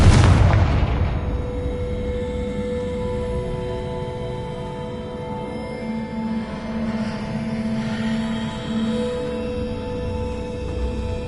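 A Confringo spell explodes in the Hogwarts Legacy video game with one loud burst at the start, then a long rumbling tail that slowly fades under a steady background drone.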